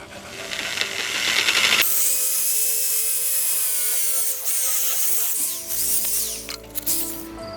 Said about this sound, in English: We're going to take our drill here and drill out our hole in our strut so we can get it mounted on here